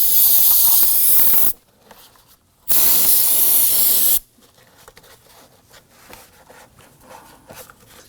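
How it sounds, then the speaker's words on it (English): Solvent spray blasting onto an electrical connector during serpentine belt work on a 2003-2014 Volvo XC90: two loud, steady hissing bursts of about a second and a half each, separated by a short pause, followed by quiet handling noise. "we're going to give it a quick spray with some solvent and clean up that connection area"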